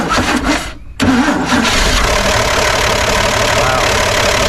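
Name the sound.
1955 Chevy engine starting after carburetor bowl filled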